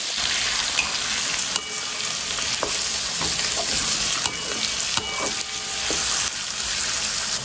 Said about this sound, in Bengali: আলুটা কিন্তু ভাজা হচ্ছে